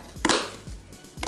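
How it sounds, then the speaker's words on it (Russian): A kitchen knife chopping an onion on a board, with a few crisp, close cuts at an uneven pace over a short moment and no voice. "И сейчас я лук режу."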